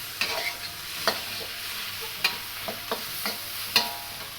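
Shrimp curry with red chili sizzles steadily in a hot pan during a stir fry, with sharp scraping and tossing strokes of a utensil breaking in at irregular intervals over the constant frying hiss.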